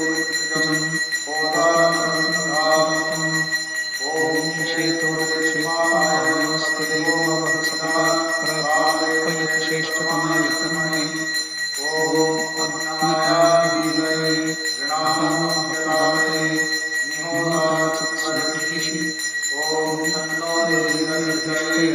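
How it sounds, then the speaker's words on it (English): A ritual bell rings without pause through a Krishna Ashtami puja. Its steady metallic tone sits under rhythmic, repeated bursts of chanting voices for the whole stretch. "The bell is continuously chanted."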